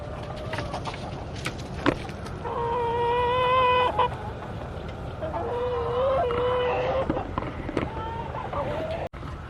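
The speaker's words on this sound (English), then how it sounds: "the dang chickens just started congregating on the back porch again" Free-range chickens gathered on a back porch cluck and murmur steadily at close range, with a few sharp accents and brief rustles breaking the low, continuous flock chatter.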